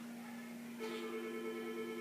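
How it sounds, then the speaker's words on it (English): A telephone rings with a steady electronic tone that swells partway through and continues, clear and fairly close, with no talking. "The phone is still ringing"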